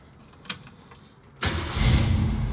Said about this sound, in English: I want to let you hear it start up and running.